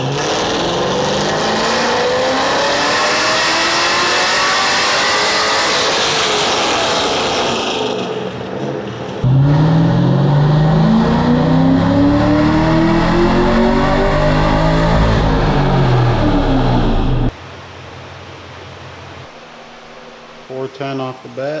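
A stock-tuned C6 Corvette V8 on a dyno pull, a loud sustained roar with rising engine pitch that swells, drops briefly, roars again, then cuts to a lower idle hum near the end.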